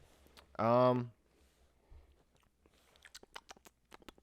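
A crunchy snack taken from a bowl is chewed near the microphone, with irregular crisp crunches and clicks following a brief voiced sound.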